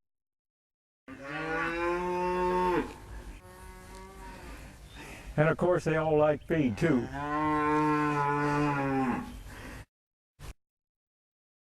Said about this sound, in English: Every cowboy ought to have a few old longhorn cows.